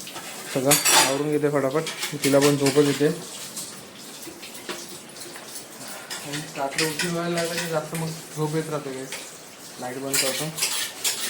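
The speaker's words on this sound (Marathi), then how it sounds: "मम्मी भांडी आवरते इकडे सगळं" Dishes, pots and cutlery clink and clatter in a home kitchen as they are put away, heard beneath people talking through much of the stretch.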